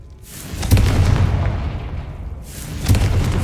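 A Confringo blast spell in Hogwarts Legacy sets off two booming explosions, the first building then rumbling away and the second hitting near the end, loud and close.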